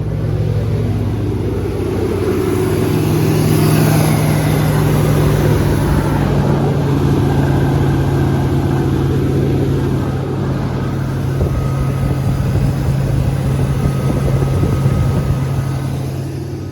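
A 1991 Chevrolet Blazer engine idles steadily with fresh spark plugs, a loud, close, continuous low rumble with a constant hum that holds even for the whole stretch, with no talking.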